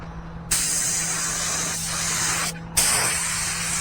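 A paint spray gun hissing as it lays a light base coat onto a Kia Optima FE bumper outdoors, two long steady bursts separated by a brief pause, loud and close.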